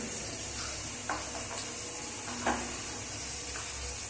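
Spinach and peas curry frying in a pan gives a steady broadband sizzle and hiss, with a few soft stirring scrapes and clicks scattered through, moderately close and with no talk over it.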